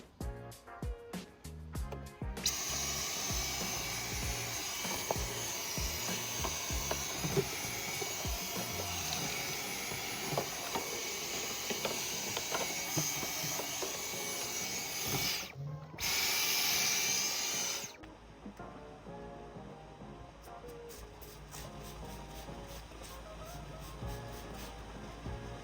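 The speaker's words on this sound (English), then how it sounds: "I don't have a shop vac, but I do have a Dyson, and it has boost." A Dyson vacuum cleaner running on boost, used in place of a shop vac to clean a 4th-gen F-body cowl panel, gives a loud, steady high-pitched whine that drops out briefly, then resumes with a changed tone.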